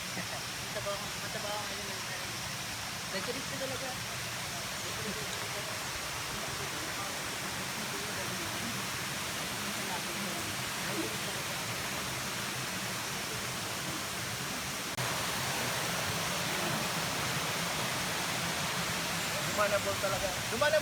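Consocep Falls in Tigaon, Camarines Sur, gives a soft, even rush of falling water heard from some distance. The roar is steady and grows slightly fuller toward the end.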